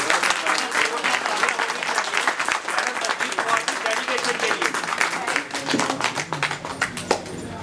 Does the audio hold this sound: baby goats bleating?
no